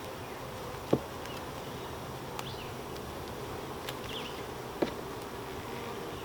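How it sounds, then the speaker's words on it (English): A honeybee guard bee buzzes steadily around a new hive during a week-nine inspection, a faint continuous drone with a couple of sharp clicks from handling the frames and no talking. "Got a guard bee here that is trying to chase me away."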